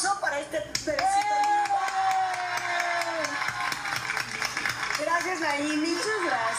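An audience claps for a baby's ultrasound image, steady applause running under overlapping voices and melodic sound throughout.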